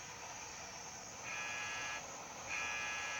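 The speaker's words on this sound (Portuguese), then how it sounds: "Quando eu ouço esse alarme de explosão tocar, a coisa é bem séria." A solar eruption alarm sounds as two steady electronic buzzer tones, each held for about a second with a short gap between, faint and alone over low background hiss.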